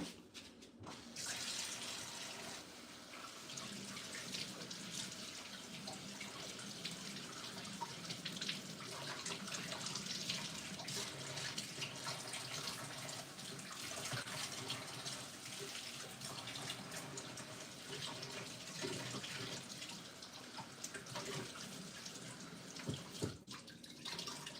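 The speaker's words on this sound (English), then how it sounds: "So asparagus, I'm gonna wash it and then trim the ends off." Tap water runs steadily into a kitchen sink while asparagus is rinsed under it, a continuous close splashing rush with small shifts in flow and a few clunks.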